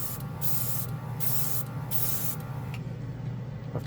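A Casubaris portable airbrush kit sprays paint in steady hissing bursts, several short on-off pulses close up with quiet gaps between, and no talking.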